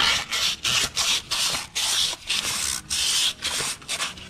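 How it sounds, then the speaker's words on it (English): Hand sanding rust off a stock GM steel wheel, rhythmic back-and-forth rasping strokes in short bursts, loud and close, roughly nine or ten passes with brief pauses between. "So go ahead and get that sanded."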